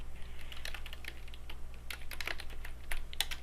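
Steady, close typing on a computer keyboard while writing in a word-processor document: a brisk, irregular run of clicky keystrokes with a low electrical hum underneath and no talking.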